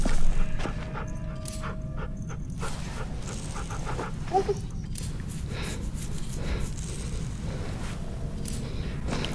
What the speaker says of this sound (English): it says that she's Clementine's dog now